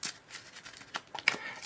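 Quick riffling and soft slapping of Magic: The Gathering cards being shuffled, a series of short crisp bursts close by, fairly quiet.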